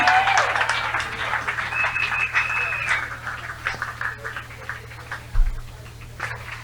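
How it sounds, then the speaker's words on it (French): A church congregation applauds in a crackling, sustained wash of clapping that ebbs and swells, with a steady low hum underneath and a brief thump near the end. "Acclame pour le roi des rois ce matin"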